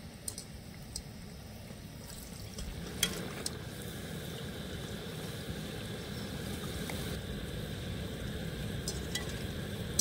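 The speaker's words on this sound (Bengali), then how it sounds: "কোট করে আবার ভেজে নেব" Coated ripe banana fritters bubble and sizzle in hot oil, a steady soft frying crackle with a few sharper pops, heard fairly close and with no talk.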